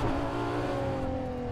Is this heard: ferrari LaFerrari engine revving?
yes